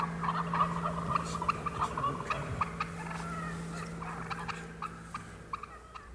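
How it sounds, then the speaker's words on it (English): Several wild turkey gobblers gobble in bursts at a moderate distance, answering hen calls, their rattling calls repeating over a steady low hum outdoors. "making the calls of the hens, and gobblers talk back"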